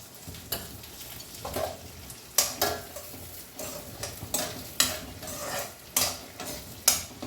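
Cumin seeds, about half a teaspoon, fry and crackle in a pan before the lid goes on, giving a busy sizzle broken by sharp pops and the clink of a stirring spoon at irregular intervals.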